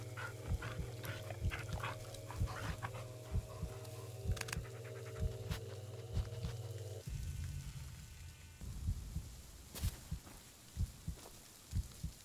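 A dog in the horror game Blair Witch pants in regular breaths while it moves, then scuffles and footstep-like thumps follow, all close and moderately loud.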